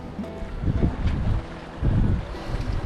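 Wind buffets the microphone on a sailboat under sail, giving loud, gusty rumbles that rise and fall in waves along with faint water noise.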